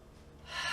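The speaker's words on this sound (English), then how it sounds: "Breathe." A yoga instructor takes an audible breath, a short rising inhale that grows louder toward the end, heard alone and close.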